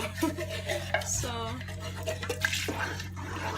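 Banga soup gets stirred in a cooking pot, a brief clatter of spoon against metal with liquid sloshing, close and under a speaking voice.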